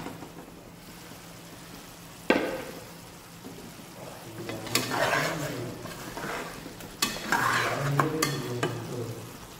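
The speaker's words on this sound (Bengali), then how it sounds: "এবার আমি লিডটা সরিয়ে নিয়ে যে আলুগুলো আমি হালকা ফ্রাই করে রেখেছিলাম সেটা ঢেলে নেব" Lightly fried potatoes tumble into a pot of mutton curry, followed by stirring. Soft sizzling runs under sharp clatters of a spoon against the pot.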